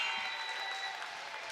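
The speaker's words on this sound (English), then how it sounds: "listen to the Pirate crowd" Home crowd at a high school wrestling dual meet cheering and applauding steadily, a dense roar of clapping that holds at an even level throughout.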